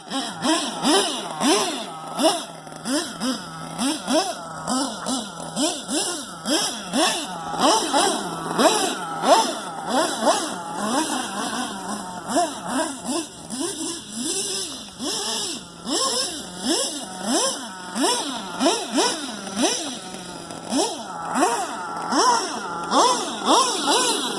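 RC truck engine running on dirt with only the front tires spinning, a steady buzzing, revving drone with rapid rhythmic pulses, close and fairly loud throughout.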